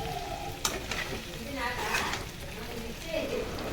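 Potatoes frying in oil in a pan give a loud, close, constant sizzle, broken by stirring scrapes and a few clinks as a spoon moves them around.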